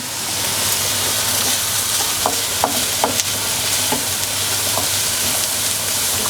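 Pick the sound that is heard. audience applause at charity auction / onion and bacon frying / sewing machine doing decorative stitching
onion and bacon frying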